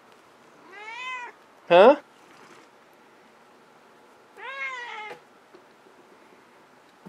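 A pet cat meows twice, a long rising-falling call early and another several seconds later, close and clear, with a person speaking briefly between them in a quiet indoor room.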